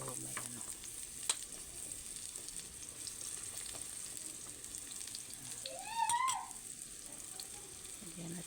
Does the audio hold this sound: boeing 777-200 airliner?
no